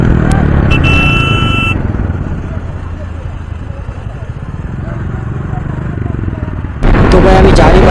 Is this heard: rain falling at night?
no